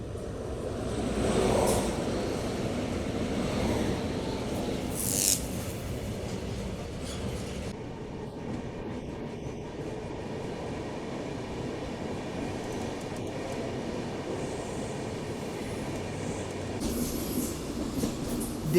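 The 12343 Darjeeling Mail from Sealdah runs through dense fog in a steady loud rumble of wheels and carriages, with rattling, clatter and a brief squeal, heard from on board throughout.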